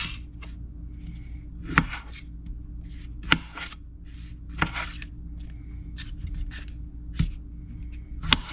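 A kitchen knife chops potatoes into bite-size chunks on a cutting board, a handful of sharp, evenly spaced knocks about every second or so, close and fairly clear over low background hum.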